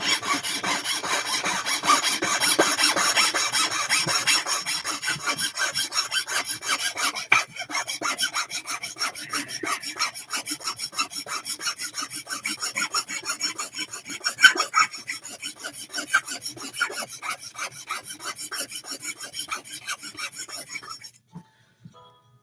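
Wood being sawn by hand with a small saw, a continuous rasping back-and-forth scrape at a steady rhythm, close and moderately loud, slowing near the end before stopping.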